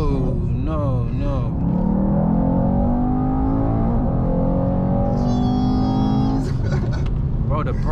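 A tuned Mercedes E63 AMG making 700 bhp and 1175 Nm pulls hard on the road, its loud engine note climbing steadily through the gears with a shift near the end, while voices talk over it.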